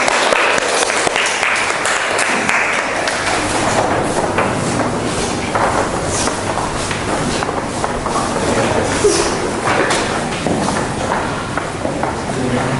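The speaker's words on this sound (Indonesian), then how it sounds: "Tepuk tangan untuk Kerajaan Kutai, silakan." A classroom audience claps steadily for a student group presenting on the Kutai kingdom, with dense, continuous applause filling the room for the full length and no clear break.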